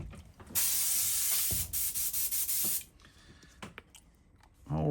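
A spray paint gun used on fishing lure blanks is cleaned out with a loud, close hissing burst lasting about two seconds, broken by a few brief gaps, then quieter clicks and handling noises.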